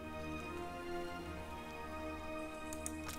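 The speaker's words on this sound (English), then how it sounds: "It's raining so much." Steady rain falls in the fantasy game Pillars of Eternity 2: Deadfire, a continuous, even hiss of droplets over a low ambient bed with no voices.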